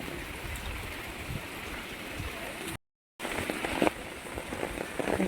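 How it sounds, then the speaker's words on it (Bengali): Steady hiss of rain falling on surfaces, broadband and continuous, briefly cut off mid-way before resuming with a few louder spatters. "বৃষ্টির মধ্যে চললাম বাড়ি"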